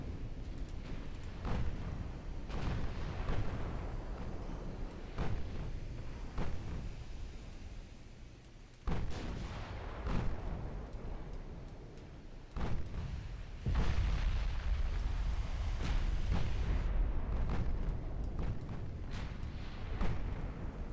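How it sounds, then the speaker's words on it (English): Torpedo hits explode aboard warships in the naval game Ultimate Admiral: Dreadnoughts, a long run of rumbling booms and crackling blasts layered over heavy low battle noise, with a bigger surge of deep rumble near the end. "There's a torpedo hit."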